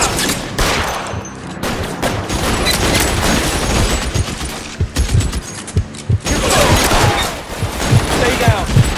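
Gunfire during a shootout in the video game L.A. Noire, with dense, loud bursts of rapid shots and fusillades over several seconds, separated by short gaps.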